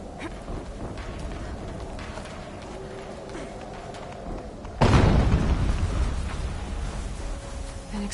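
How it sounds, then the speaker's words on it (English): A sudden loud boom from an explosion in Horizon Zero Dawn, set in a snowy area, breaks over quiet game ambience and leaves a rumbling decay for several seconds. "An explosion."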